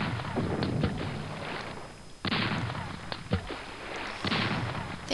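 Ship cannons in the game Bnav fire in a few booming bursts separated by brief quieter gaps, loud and close.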